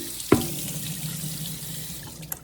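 Tap water splashes onto a wooden cutting board with a sudden gush, then a soft, steady trickling hiss at close range, with a faint clink near the end.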